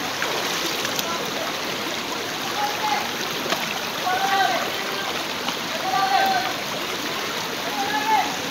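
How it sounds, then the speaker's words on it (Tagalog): Steady babble of a shallow stream while someone wades through it on foot, with soft splashes and trickling water; faint voices call out briefly in the background. "Ganyan po ang tamang paglalakad sa batis ng Kaganaan."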